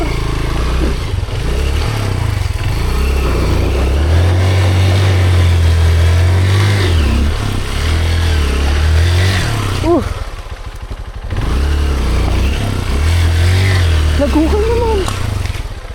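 A motorcycle engine at Pari Falls drones and revs loudly throughout, rising and falling in pitch, while a person talks over it.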